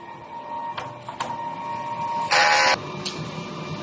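A DTF printer running its heat clean cycle gives a steady mechanical hum with a few short clicks and one louder two-second whirring burst partway through, close and alone without talk.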